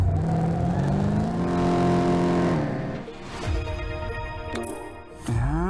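A small Peugeot in the Top Drives racing game accelerates with a rising, revving engine note that shifts through gears, then a brief lull and a fresh surge of revs near the end.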